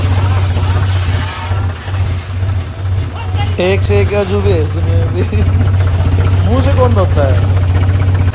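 A John Deere 5050D tractor engine runs with a steady low, throbbing hum while reversing, continuous under a voice talking over it for most of the stretch.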